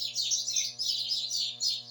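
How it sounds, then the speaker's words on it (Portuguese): Free-flying pet birds chirp indoors at home in a quick, bright, continuous run of tweets. A faint steady electrical hum sits beneath them. "tá ouvindo os meus passarinhos?"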